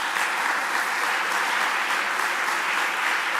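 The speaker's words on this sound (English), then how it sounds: "please join me for a round of applause" An audience applauds at an Art in Embassies event, a steady, full wash of clapping from many hands, loud and sustained throughout with no break.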